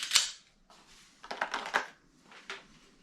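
Dry-fire trigger clicks from a Heckler & Koch VP9 pistol: a sharp click, then a cluster of quick mechanical snaps and a final crisp click, close and fairly quiet with no talking.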